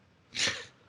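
A single short sneeze in the game Zork Nemesis, close and fairly loud, with a sharp hissing burst that fades quickly.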